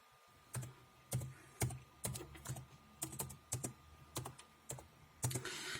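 Typing on a computer keyboard to enter a search, a run of about a dozen clear keystroke clusters with short pauses between them, close and alone without any talk.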